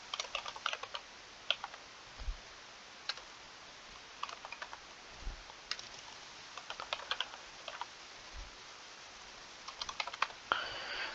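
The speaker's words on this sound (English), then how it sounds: "So I'll just type in my path that I have for my computer." Typing on a computer keyboard while entering a file path, a quiet close sequence of irregular key clicks in short bursts with pauses between them.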